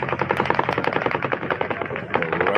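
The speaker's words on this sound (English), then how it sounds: "more single shots can be heard" Rapid, evenly spaced gunshots crack out one after another in a steady run of roughly a dozen reports, loud and fairly close, with no voices over them.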